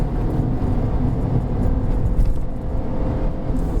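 A Kia Picanto 1.2 GT Line climbs a misty mountain road in second gear, heard from inside. A loud, steady engine drone mixes with road rumble throughout.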